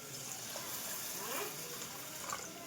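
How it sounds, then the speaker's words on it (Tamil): Water is poured over rice in a kitchen to soak it for mushroom biryani, a steady close splashing flow with no speech. "இப்போ வந்து அரிசியில் வந்து தண்ணி ஊற்றி ஊற வச்சுக்கலாம்."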